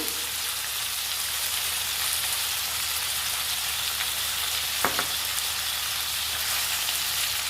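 Gongura and coriander chutney ingredients frying with turmeric in a pan, a steady soft sizzle with faint stirring scrapes throughout and one brief clink partway, no voices.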